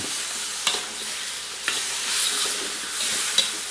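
Pork being stirred in a hot pan, a steady sizzle with a few sharp scrapes of the spoon, close and fairly loud.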